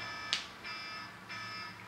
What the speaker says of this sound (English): I have an alarm to remind me to do things.